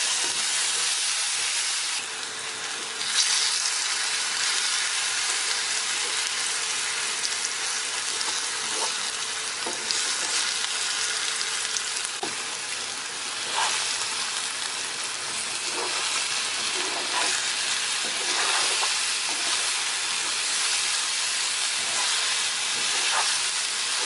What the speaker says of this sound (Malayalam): ഇതിലേക്ക് നമുക്ക് അരിഞ്ഞു വെച്ചിരിക്കുന്ന ഏത്തപ്പഴം ഇട്ടൊന്ന് വഴറ്റിയെടുക്കാം.